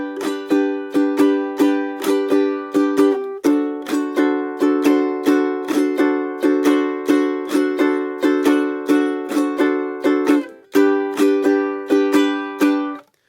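Ukulele played in an island strum pattern with the last upstroke dropped, bright repeated chord strums in a steady rhythm, close and loud with no voice, briefly cutting out near the end before resuming.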